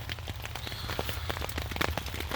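Rain patters steadily at a campsite in the early morning, a dense faint crackle of drops on a surface with scattered louder taps and no voices.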